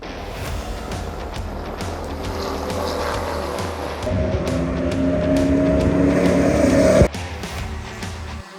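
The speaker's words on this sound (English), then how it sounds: "I got the custom cruiser idling the whole time now." A custom cruiser race car engine idles steadily at Sebring, its low hum swelling a little louder midway before a sudden drop, with no talking over it.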